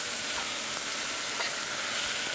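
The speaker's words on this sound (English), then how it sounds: "you're lightly frying the herring" Herring lightly frying in a pan at a developer cook-off, a steady close hiss and crackle of sizzling fat running unbroken throughout.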